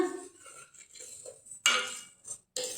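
Spices stirred and roasted in a pan on low heat for a green chilli pickle, a spoon scraping and clinking against the metal in short irregular bursts, close and fairly quiet.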